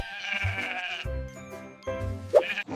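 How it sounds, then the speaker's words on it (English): A sheep bleats in wavering, drawn-out cries, one long call followed by two more, close and fairly loud with nothing else around it. "It's a sheep."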